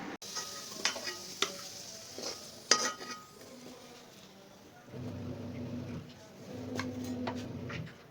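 Potatoes frying in hot oil with spices, with faint sizzling, occasional clinks of a utensil on the pan, and stronger bursts of frying hiss later on.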